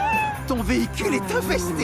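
A cat in a vehicle gives a few drawn-out, wavering meows over a low rumble, close and clear, while a person speaks in French around it.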